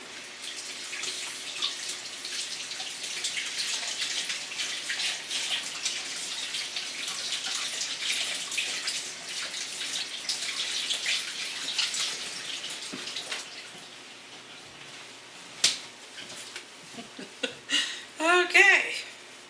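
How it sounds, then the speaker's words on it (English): Hands being washed under a running kitchen tap while baking pumpkin cheesecake bars: a steady, close rush of water for about thirteen seconds, then splashes and drips as the flow stops, with a few knocks and squeaks at the end. "wash hands again"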